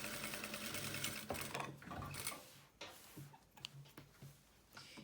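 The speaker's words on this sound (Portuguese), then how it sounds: "costura." Sewing machine stitching the lining and batting corners of a basic fabric toiletry pouch, a fast steady mechanical chatter in bursts with short pauses between seams, close and alone.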